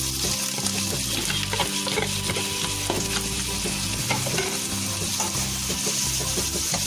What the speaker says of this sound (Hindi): पैन में हम ऑयल डालेंगे। इसमें हम दालचीनी डालेंगे, लौंग, बड़ी इलायची, ग्रीन चिली, अनियंस डालेंगे